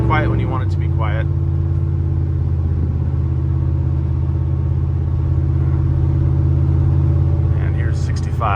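Car exhaust fitted with Speed Engineering long tube headers, a steady low droning rumble held close and fairly loud at an even cruise level, with brief voices at the start and end.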